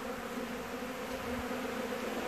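Honeybees in a mini hive give off a steady, close, continuous buzzing hum that holds evenly throughout without any break.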